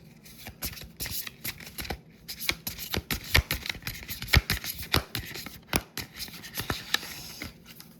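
Cards from a tabletop game deck are shuffled and drawn close by, a steady run of crisp flicks and slides in uneven bursts, with no talking over them.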